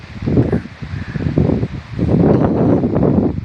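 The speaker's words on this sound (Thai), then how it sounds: "ก็มีแต่ลม ทั้งลมทั้งฝนนะครับ" Wind gusting through trees at a forest temple during a storm with rain, loud rustling surges rising and falling in waves with heavy microphone buffeting, no talk.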